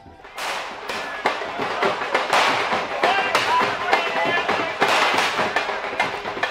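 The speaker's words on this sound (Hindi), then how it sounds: "केजरीवाल के वेलकम के लिए ढोल नगाड़े, बैंड बाजे, आतिशबाजी का इंतजाम किया गया था।" Fireworks burst in a rapid, crackling barrage of sharp pops outdoors at a street welcome for Arvind Kejriwal, with drums, band, crowd noise and voices mixed underneath.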